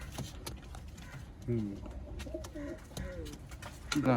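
Pigeons coo nearby in soft, throaty bursts, several calls following one another over sharp clicks and rustling.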